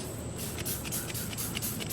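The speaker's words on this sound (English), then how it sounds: "I'm going to spray quickly on the tire" Tire cleaner is sprayed onto a car tire in a steady hissing mist of several close, rapid bursts. The spray runs continuously and fairly quietly for about two seconds, with no voices.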